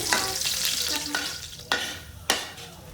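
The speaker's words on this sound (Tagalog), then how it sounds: "Isusunod natin igisa ang sibuyas." Onion and garlic sautéing in a hot pan for toasted miki pansit guisado, a steady sizzle broken by a few sharp scrapes of a spatula stirring, close and clear with no talk.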